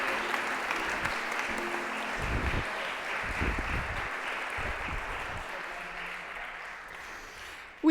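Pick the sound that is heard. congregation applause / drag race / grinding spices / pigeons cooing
congregation applause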